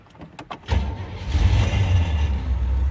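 A car that stalled after leaving a car wash cranks and catches, its engine settling into a low, rumbling idle that carries on close by.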